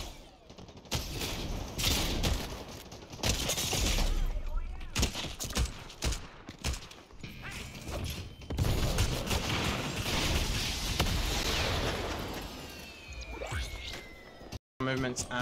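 Rapid, loud bursts of DMR rifle fire in Fortnite, played on keyboard and mouse, crack out again and again across the whole stretch, with a voice talking over the shots.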